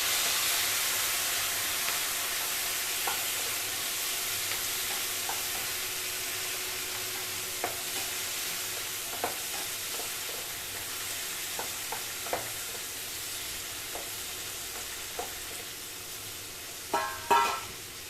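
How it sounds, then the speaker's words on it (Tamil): Tomatoes frying in a pan for ridge gourd peel chutney give a steady, even sizzle with a few soft clicks of stirring and a louder clatter of the spoon near the end. "இந்த ஸ்டேஜில் தக்காளி போட்டுக்கலாம்."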